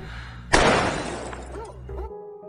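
A sudden sharp gunshot crack bursts into car window glass shattering, with fragments tinkling and a lingering rumble fading out over a low background hum.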